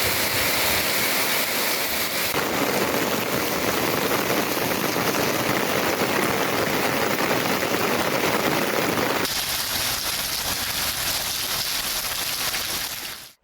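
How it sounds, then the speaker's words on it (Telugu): Heavy, steady rain pours down during a thunderstorm with gusty winds in East Godavari district, Andhra Pradesh, making a dense, continuous roar for the whole stretch that eases slightly near the end, with no clear thunder rumble and no voices. "ఉరుములతో కూడిన వాన పడింది"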